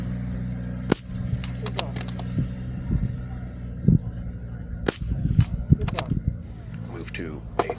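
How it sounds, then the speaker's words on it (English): Several .22 rifle shots crack at a steel-target shooting match, spaced irregularly with the bright pings of bullets striking steel plates, heard close amid background chatter. "Then move to a different position and shoot the 93-yard target 3 times."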